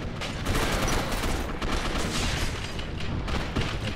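Sniper rifle gunfire in the video game Gotham City Impostors sits within a dense, loud, continuous barrage of shots and blasts that barely lets up.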